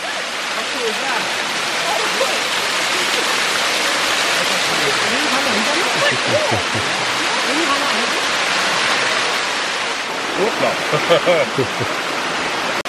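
Water pours at Bua Tong waterfall in Thailand, a loud, steady, close rush with a broadband hiss that holds for the whole stretch, and voices murmur faintly underneath.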